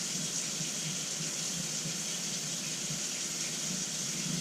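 Garlic rinsed under running water from a tap, a constant close hiss of flowing water without breaks, with no talking over it.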